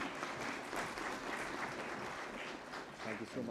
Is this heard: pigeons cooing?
no